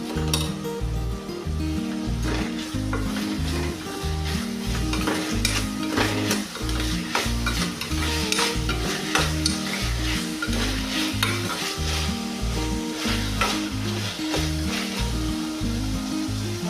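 A spiced corn rice mixture with cumin, curry leaves and salt is stirred in a pan, with continuous rhythmic spatula scraping over a lively sizzle for about seventeen seconds.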